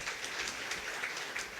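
An audience applauds to welcome a professor onstage at a university teaching-methods event: a steady, fairly faint wash of clapping that holds evenly throughout, with no voices.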